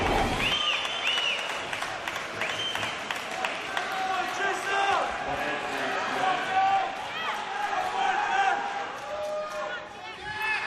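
Crowd cheering and applauding at a racquetball semifinal match, a sustained wash of claps and shouts with whistles, steady and fairly loud throughout.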